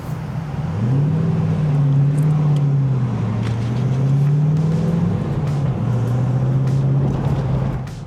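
Turbocharged TVR car driving, its engine holding a steady, loud drone that climbs in pitch around the one-second mark, then rises and dips gently as it cruises, with no talk over it.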